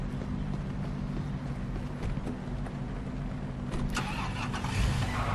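A car in the video game Police Simulator: Patrol Officers starts and pulls away from a cleared accident scene, a steady mid-pitched engine rumble with a few light knocks and a brighter burst near the end.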